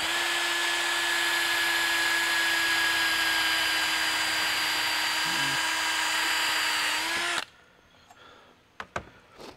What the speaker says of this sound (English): when you're cutting with polycarbonate, you want to kind of drill it the same way